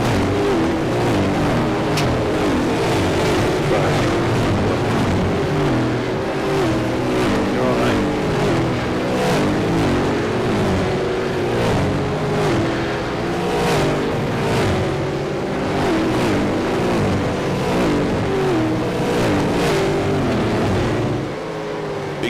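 A V8 Supercar engine roars at full throttle, heard onboard during a race at Belle Isle: a loud, sustained, steady drone that holds for the whole stretch with only slight shifts in pitch.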